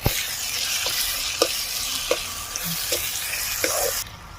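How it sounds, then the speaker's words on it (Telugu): Chili powder and coriander powder are stirred into a ridge gourd and chana dal curry in a pan, giving a steady close sizzle with a few sharp scrapes and clinks of the spoon against the pan. "జరంత ధనియాల పిండి వేసుకోవాలి. ఇప్పుడు మంచిగా కలపాలి."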